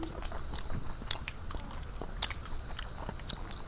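Someone eats pangas fish curry cooked with potatoes, green banana and tomato, giving quiet close bites and chewing with small crunchy clicks and faint mouth noises scattered through a short, soft stretch.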